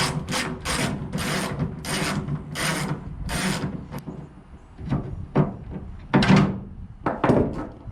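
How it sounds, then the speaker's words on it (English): A ratchet backing out three 13mm bolts holding the tailgate handle on a 2003-2006 Silverado, heard as bursts of rapid metallic clicking separated by short pauses, close up. "on the inside of the tailgate, you just got 3 13mm bolts. All you gotta do is take these out,"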